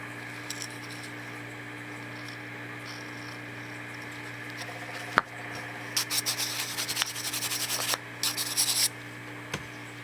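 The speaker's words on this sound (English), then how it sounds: "just a light sanding would definitely get rid of a lot of that fluff" Soft rubbing and scraping of sandpaper on a carved wooden Christmas goblin figure, quiet at first, then a few bursts of brisker, rougher strokes, close by with no talking.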